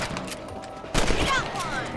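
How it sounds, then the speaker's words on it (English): Rifle shots at rabbits in Red Dead Redemption, a quick cluster of sharp cracks followed by one louder blast and a ringing tail over the game's ambient background. "Get your rifle out."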